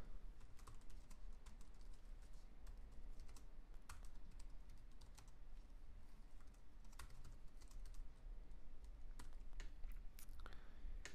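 Steady, close clicking of keys on a computer keyboard as ad text is typed, a continuous run of soft taps with a few louder strokes and no talking.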